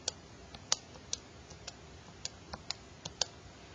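Keys on a graphing calculator pressed to enter numbers: about a dozen small, crisp clicks at uneven intervals, quiet and close, alone.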